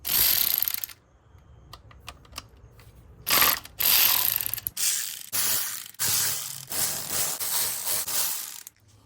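A hand ratchet loosens 10 mm bolts on an Audi A6 3.0L engine, producing several bursts of loud close clicking with brief pauses and small metallic taps in between.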